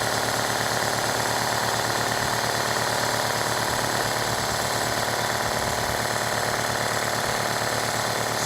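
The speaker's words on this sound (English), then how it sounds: "the compressor's kicked on. It's gonna fill back up with air and then it'll shut back off" A Husky 60 gallon air compressor motor runs loud and steady throughout, a dense continuous mechanical drone with a fast pulsing chatter and no pauses.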